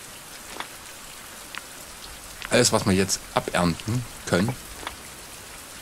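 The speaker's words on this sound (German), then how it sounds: "es regnet." Steady rain falls in the survival video game Fountain of Youth, a soft continuous hiss throughout, with someone speaking German over it in the middle.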